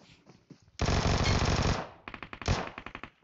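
Automatic gunfire in the mobile game PUBG crackles in a dense sustained burst, then a quick run of separate shots follows. The shots are loud and close, with no talking.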